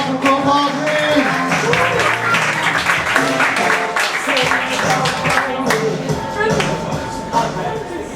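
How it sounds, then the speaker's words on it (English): An audience applauds a comedian at a comedy workshop show in Dubai: dense, steady clapping runs throughout, fairly close and lively, with some voices mixed in. "Big round of applause for Gopal, please"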